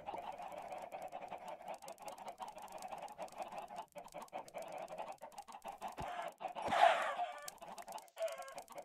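Minecraft chickens cluck and squawk in a steady stream of short calls over game ambience, with a louder burst of clucking near the end.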